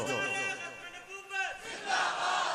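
A crowd at a religious gathering chants slogans in loud, rhythmic unison, with swelling voiced calls that break into a rougher shout near the end.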